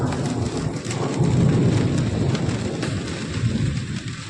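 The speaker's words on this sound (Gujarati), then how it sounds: "વરસાદ ફૂલ ગાજે" Heavy unseasonal rain pours down during a windstorm, with a deep rolling rumble of thunder underneath, steady and close throughout.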